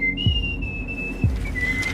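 A person whistles on a night train, a long thin sustained tone that wavers slightly and dips near the end, heard fairly close over a low rumbling background with two soft thuds.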